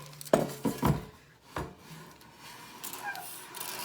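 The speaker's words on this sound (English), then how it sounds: "we're just gonna take the pot right out" A pot is pulled out of an air fryer with a few sharp metallic clanks and scrapes early on, then quieter rubbing and handling noises, close and moderately loud.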